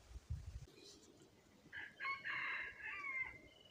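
A red junglefowl (labuyo) rooster crows in the distance in open wild terrain, one faint drawn-out crow after a brief low rumble, with no talk.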